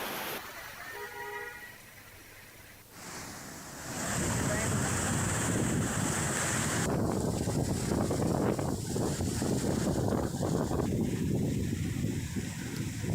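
The flooded Latiya drain rushes after torrential rain, a loud, steady broadband roar of fast-moving water mixed with wind buffeting on the microphone.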